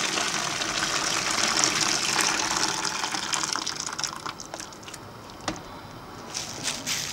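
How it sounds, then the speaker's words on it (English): Hot water poured from a kettle into a container holding a bagged wig, a steady broadband gushing stream that tapers off toward the end with a few small splashes. "so a kettle of hot water, you just pour it down"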